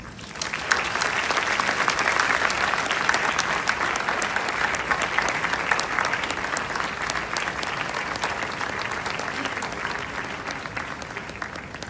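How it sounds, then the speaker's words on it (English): An audience at a convocation ceremony applauds steadily and loudly, with dense clapping that holds for the whole stretch and no talk over it. "give them a big round of applause"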